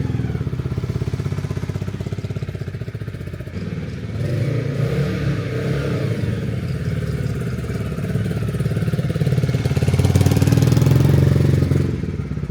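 A motorcycle engine runs steadily on a test ride after a DIY garage repair that included tightening the speedometer cable, with a continuous loud drone that swells louder near the end.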